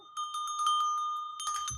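A small handbell rings as it is moved, bright repeated tinkling strikes for about a second and a half, close and fairly quiet, ending in a soft clunk as it is set down.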